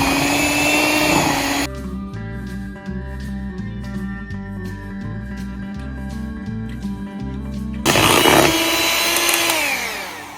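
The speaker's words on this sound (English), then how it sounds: "we're gonna mix this together till it's smooth and creamy" Electric mixer beating butter cake batter with whole egg yolks until smooth and creamy, a steady whirring motor hum with louder, harsher bursts at the start and end.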